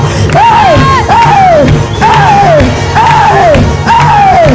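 A church congregation cheers and shouts for joy during a worship service, loud and close, with repeated rising-and-falling voiced whoops arriving in a steady rhythm over a dense roar of the crowd.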